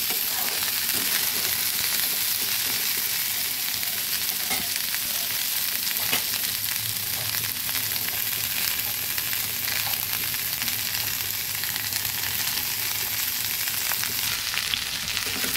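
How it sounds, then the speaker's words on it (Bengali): Pumpkin and beans fry in a pan over high heat, giving a steady, dense sizzle that runs unbroken and close for the whole stretch with faint stirring underneath. "জালটা বাড়িয়েই ভাজতে হবে, না হলে কুমড়োগুলো গালা গালা হয়ে যাবে।"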